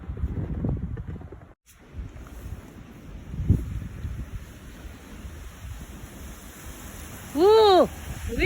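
Strong wind during a snow storm up north buffets the microphone in a continuous low rumbling roar, with a brief tonal whine near the end.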